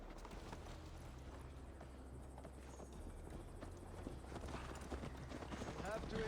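A horse is ridden in the video game Assassin's Creed Valhalla on the road to Tamworth. Faint, steady clip-clopping hoofbeats carry on beneath ongoing speech.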